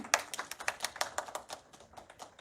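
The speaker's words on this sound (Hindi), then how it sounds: "तालियों की गड़गड़ाहट करती रहिए" Brief burst of audience clapping at a Hindi poetry book launch, a quick run of sharp hand claps that thins out and fades over a couple of seconds, fairly faint, with no voices.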